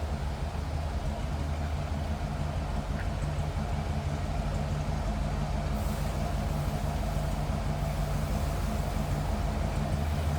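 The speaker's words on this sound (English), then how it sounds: "Little rumble, nothing crazy, just kind of a nice deep throaty exhaust note" A 1966 Pontiac GTO's V8 exhaust idles in a steady, deep rumble, continuously at low pitch, even and unbroken throughout, with no voices.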